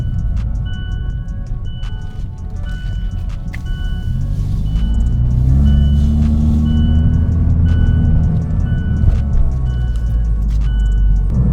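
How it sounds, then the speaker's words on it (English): Mazda 6 from the 2018–2023 generation driving just after a spark plug change, its engine hum and road rumble steady and close inside the cabin, with faint ticking and chimes over the drone. "All right, so I'm gonna take it for a drive."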